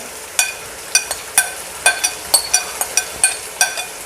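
Beef liver added to tomatoes frying in a pan: a soft sizzle underneath a steady run of sharp, evenly spaced clicks and taps of stirring, close and without voices.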